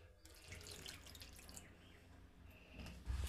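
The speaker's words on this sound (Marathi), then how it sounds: "तर आता अजून पाणी घालून घेणार आहे मी." Water runs from a tap into a bowl of khaman batter at home, a soft continuous trickle and splash with faint drips, ending in a louder low thump.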